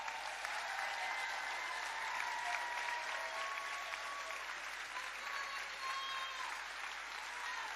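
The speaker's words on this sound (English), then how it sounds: "Thank you for giving them such a warm welcome of applause." An audience applauds elected officials at a public event, steady sustained clapping from a crowd that holds at an even level throughout, with no voices over it.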